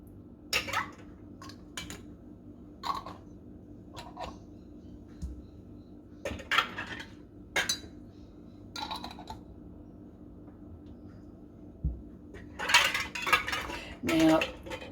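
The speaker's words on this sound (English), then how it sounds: "just give it a twist" Sterilised metal lids twisted onto glass jars of strawberry jam, a series of sharp clinks and scraping metal-on-glass clatters in short bursts with quiet pauses between, close and fairly faint.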